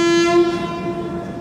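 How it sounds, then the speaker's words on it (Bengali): The 12370 Dehradun Howrah Superfast Express pulls out of the station, marked by a loud, steady horn blast that sounds close by and alone for just over a second. "ট্রেনের চাকা গড়াতে শুরু করে দিল।"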